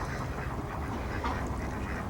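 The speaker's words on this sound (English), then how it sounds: "The ducks are getting upset because I'm coming in there." Ducks quack continuously at a flooded property in Duvall, Washington, agitated by someone approaching, a dense steady chorus of calls against noisy outdoor background.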